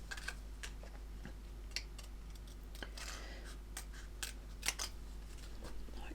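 Small scissors snip out model kit decals from a decal sheet, giving a few sparse, quiet, close-up clicks and snips over a faint steady background hum.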